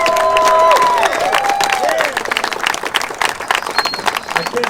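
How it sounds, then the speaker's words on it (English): A crowd at a skate park groundbreaking ceremony breaks into loud applause and cheering for an honoree, sustained clapping and shouts throughout, with whistles ringing out near the start. "join me in a huge, thunderous round of applause to JD"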